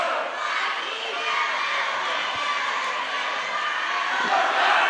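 Students in the bleachers at a high school boys basketball game roar and cheer in a dense, steady wall of crowd noise that fills the gym, with shouting voices blended throughout.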